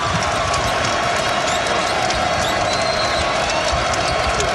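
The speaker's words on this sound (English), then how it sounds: "The crowd's starting to wake up finally here in Milwaukee." A basketball crowd in a Milwaukee arena, during a Marquette versus West Virginia college game, fills the space with a dense, steady roar of cheering and noise that never drops.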